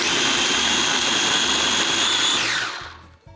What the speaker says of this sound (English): So I'm gonna blend this. I think in the video they used a blender. I'm gonna use a food processor.